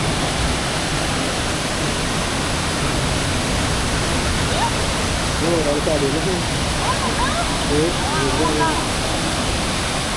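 Water rushes loudly and continuously through an ancient irrigation dam in Tamil Nadu, a dense roar with people's voices faintly heard beneath it.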